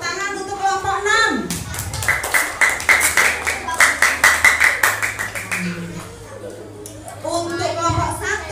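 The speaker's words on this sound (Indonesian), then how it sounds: "Tuh, tepuk tangan untuk kelompok 6." A classroom group claps for one student team after a bamboo stilts task, a run of quick, close, rhythmic claps in the middle of the clip, with someone speaking before and after.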